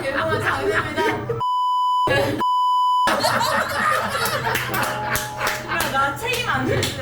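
Censorship bleeps on a Korean talk show: two sharp, loud pure-tone beeps, each about half a second long, cut into lively conversation and laughter, with speech and chuckling continuing around them.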